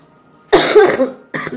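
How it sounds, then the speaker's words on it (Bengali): A person with a cold and fever gives a single loud, harsh cough up close, followed a moment later by the start of a second cough. "কাল থেকে একটু ভালো আছি, কিন্তু কাশি প্রচণ্ড বন্ধুরা"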